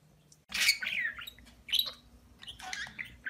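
Budgerigars chirping in a cage: bright, scratchy chirps and squawks in several short bursts, close and fairly loud, separated by brief quiet gaps, with no talk.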